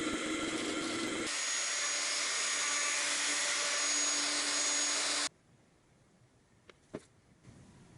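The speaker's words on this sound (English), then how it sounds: "So I've got a 1-inch Forstner bit in there right now, and I'm just going to hog out the bulk of the material from these cavities before I route them." A drill press fitted with a 1-inch Forstner bit bores into wood, giving a loud, steady whirring drone for about four seconds that cuts off abruptly, followed by near silence with a few faint knocks.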